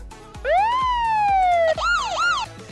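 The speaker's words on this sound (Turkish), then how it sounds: "bir siren sesi bulalım" A Roblox horror game air raid siren wails upward, holds a long falling tone, then switches to quick rising-and-falling yelps, loud and close with no voices.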